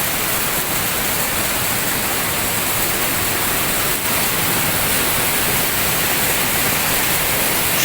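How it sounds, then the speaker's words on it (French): A small natural waterfall near a hotel in Mocoa, Putumayo, pours as a steady, dense hiss of rushing water, close and constant throughout with no voices. "il y a aussi une petite cascade naturelle"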